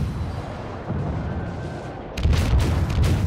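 Naval ship guns firing in World of Warships, a sharp booming volley bursting out near the end over a rumbling background, loud and close.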